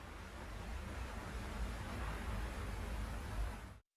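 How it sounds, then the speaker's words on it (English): Ocean surf from a film soundtrack, a steady broadband wash of waves crashing that holds even and moderately loud for nearly four seconds before cutting off abruptly, with no voices. "we hear the ocean waves crashing"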